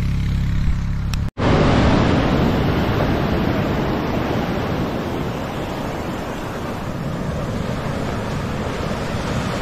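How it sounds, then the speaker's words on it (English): Surf about two to three feet high breaks on the beach at Nags Head on North Carolina's Outer Banks on a hot, sunny day. A continuous loud wash of waves and wind follows a brief dropout near the start. "Have a little bit of surf here, a couple feet high, 2-3 feet."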